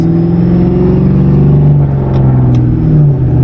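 A boosted Ford Mustang GT engine runs poorly and rich, a loud, steady low rumble with an uneven, rough idle-like drone close by and no speech.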